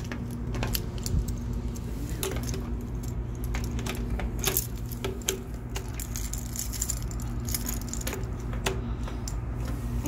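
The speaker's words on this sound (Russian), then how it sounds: "Желтый ключ. Кейман." A bunch of universal keys jangles and clinks repeatedly while being tried in a lock, with sharp metallic rattles scattered over a steady low background hum throughout.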